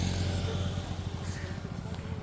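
A motorcycle engine drones steadily close by as it speeds along a road, heard under ongoing conversation between two men.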